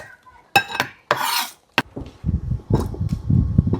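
Pots, dishes and utensils clatter and clink in a village kitchen sink during washing, with sharp bangs and scraping knocks followed by a steady wash of rinsing clatter, close and fairly loud.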